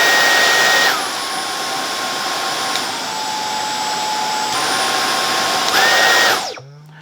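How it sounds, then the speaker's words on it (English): A Dyson V10 Total Clean cordless vacuum whines loudly, its pitch stepping down and back up as the suction setting changes, then winding down at the end. "that really changed the suction that you'll get on the vacuum"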